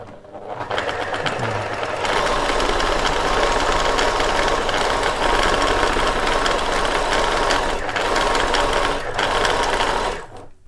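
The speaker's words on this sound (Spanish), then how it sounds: "Y estoy pasando un pespunte de carga que me está sujetando ya la pieza del filtro." A sewing machine runs steadily, stitching a non-woven fabric mask with a straight stitch. The motor hums close and loud with a rapid needle rhythm, pausing briefly twice near the end.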